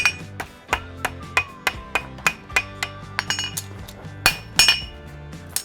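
A farrier hammers clips on a steel horseshoe, setting them to the hoof wall angle: a brisk, regular run of about fifteen sharp, ringing metallic strikes, close and loud, with no talking.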